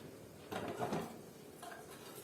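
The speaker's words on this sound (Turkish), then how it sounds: "Şöyle kenara çekiyorum tenceremi." A metal soup pot scrapes and clanks briefly as it is pulled aside on a stovetop, two short knocks against quiet kitchen background.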